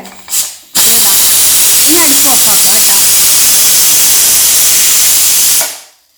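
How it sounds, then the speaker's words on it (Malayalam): A loud, steady hiss of steam rushing out of a pressure cooker whistle while cooking veg biryani, going on for several seconds before cutting off abruptly. "ഒരു വിസിൽ വരാനാകുമ്പോൾ ഓഫാക്കുക"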